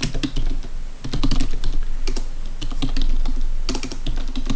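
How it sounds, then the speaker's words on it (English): Fingers type steadily on a computer keyboard, a close, loud run of rapid clicking keystrokes with brief irregular pauses and no talk. "Now you start typing away."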